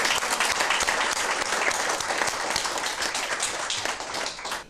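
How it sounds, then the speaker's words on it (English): A warm round of applause fills a hall at an executive women's leadership dialogue, dense, loud and steady clapping from a large audience that holds for the full stretch before easing slightly at the end. "So please, a very warm round of applause."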